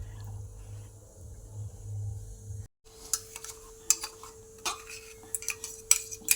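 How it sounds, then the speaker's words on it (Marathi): Ground green chili, garlic and cumin paste stirred into gram flour for coriander fritters: a quiet hum first, then irregular close scraping and clinking of a spoon against a bowl. "आता आपण हे सर्व एकत्र करणार आहोत"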